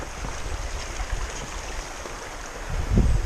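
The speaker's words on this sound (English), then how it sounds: "Found the River Swale." The River Swale flowing steadily during a walking crossing, a broad, constant rushing wash of water close by, with a low rumble swelling near the end.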